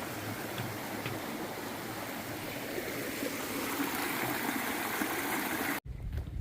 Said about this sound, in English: Got a beautiful creek and another bridge.